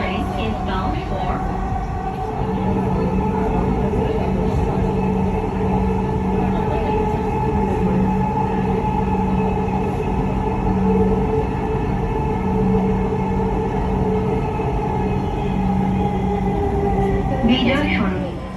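A Dhaka metro train bound for Motijheel runs between stations, giving a steady, loud rumble with a sustained tonal hum that holds for the whole stretch, and a brief clatter near the end.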